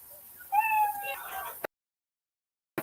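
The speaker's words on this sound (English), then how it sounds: "you hear that sound of the kitty" A cartoonish cat meow sound effect rises and wavers for about a second, then cuts off abruptly into silence.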